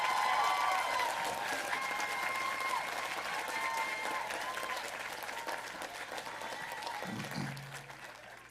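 Relatives, friends and supporters of graduates clap at a university commencement ceremony, sustained applause from a large crowd that slowly fades, with a brief low thump near the end.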